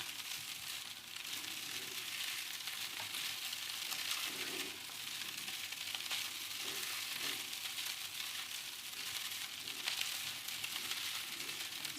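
Fried rice sizzles steadily in a hot pan while being tossed and mixed, a continuous crackling fry with soft, irregular scraping and stirring thumps, close and with no voices.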